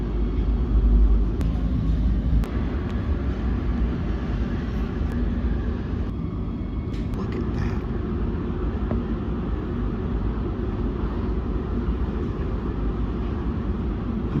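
Steady low rumble of an Oslo Metro train in motion, with constant rolling noise and a few faint clicks and squeaks, no voices.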